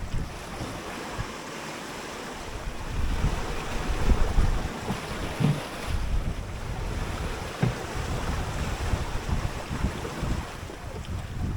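High wind and big ocean waves buffet a 21-foot junk rig sailboat at sea, a constant rushing roar of gusts on the microphone over heavy surging water, with no talking.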